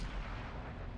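Tank cannon fire in World of Tanks, a continuous heavy low rumble of gunfire that fills the whole short moment at moderate level with no voices.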